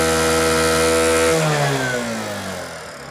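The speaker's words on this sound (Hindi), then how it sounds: "बाइक स्टार्ट हुई, चेक इंजन लाइट इसका चला गया।" A Bajaj Platina BS6 motorcycle engine runs just after starting, a loud, steady idle whose tone drops slightly after the first second and keeps droning, with no voices.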